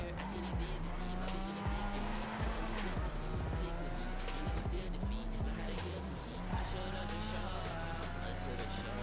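Racing engines from a video game, including a Sultan car, drone steadily and loud throughout, with pitch sweeps as gears shift, tire squeals and brief skids, under occasional voice.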